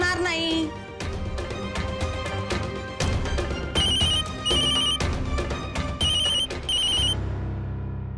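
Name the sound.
phone ringing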